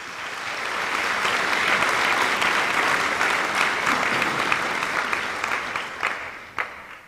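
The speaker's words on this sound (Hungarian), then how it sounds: "És a taps persze jár." An audience at a Szent Márton gala awards ceremony gives sustained applause, a dense, steady wash of many hands clapping that swells in and slowly tapers toward the end, with no voices over it.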